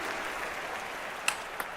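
In the London 2012 Olympic video game, a crowd at a rally-based match gives a faint, steady roar of applause and cheering, broken by a couple of sharp clicks near the end.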